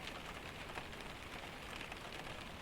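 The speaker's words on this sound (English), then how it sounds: "there is only rain on bamboo and cedar and stone" Steady rain falls on bamboo, cedar and stone in a forest, a soft, even patter with no breaks and no voices.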